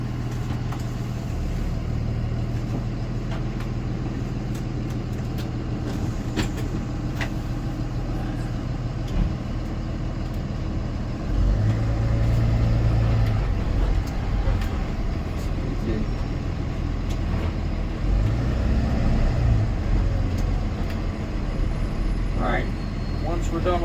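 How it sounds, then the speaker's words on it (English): A Thomas Built school bus creeps forward in drive to about 5 miles per hour and brakes, a low steady engine rumble with a rise in drone partway through, heard up close inside the cabin. "putting it in drive, get it up to 5 miles per hour, and then apply the brakes"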